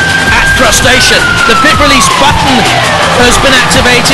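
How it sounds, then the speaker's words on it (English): A loud siren wails and slowly falls in pitch over a noisy crowd at a Robot Wars robot combat event, while an announcer talks over it. "That's the siren you can hear."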